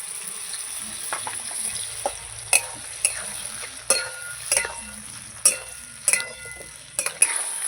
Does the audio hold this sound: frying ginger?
yes